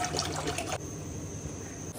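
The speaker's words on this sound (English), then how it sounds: "First, put water in a pot." Water from a tap runs into a cooking pot in a kitchen at night, a steady close pour that cuts off partway, leaving a faint hum.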